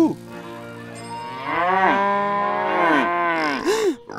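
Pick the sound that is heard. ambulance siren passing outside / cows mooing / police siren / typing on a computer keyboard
cows mooing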